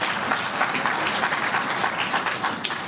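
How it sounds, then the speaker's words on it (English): An audience at a political talk applauding, dense steady clapping from many hands sustained throughout at close, even loudness. "Another round of applause to Javier."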